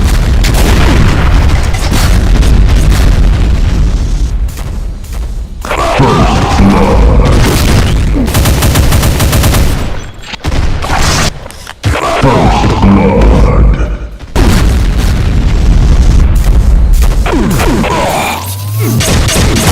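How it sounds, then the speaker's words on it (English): Heavy booming blasts of explosive railgun shots in a Doom mod, loud and close, with crashing impacts layered over constant chaotic combat noise and brief gaps between bursts. "But also the explosive railgun shots."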